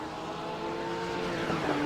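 GT3 race cars on the Nürburgring Grand Prix circuit, a steady distant engine drone with faint tonal whine, fairly quiet and continuous with no talk.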